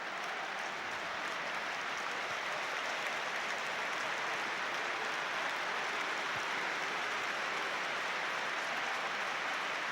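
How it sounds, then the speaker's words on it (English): Sustained applause from Newcastle fans at St James's Park during a Premier League match against Tottenham, a dense, steady wash of clapping from a large stadium crowd filling the whole stretch with no break. "It's the usual 17th minute applause for the Newcastle fans."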